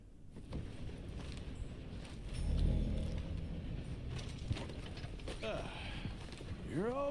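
Horse hooves clip-clop in steady rhythm in Red Dead Redemption 2, mixed with game ambience while a player talks over the top throughout.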